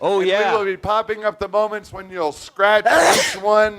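A single sneeze bursts out in a studio, loud and close, cutting into a man's ongoing speech near the end.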